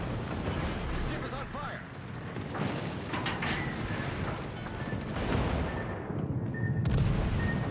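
Warship guns fire in a naval video game with the Mecklenburg, heavy booming shots rumbling over ongoing game noise, with a voice talking over the action.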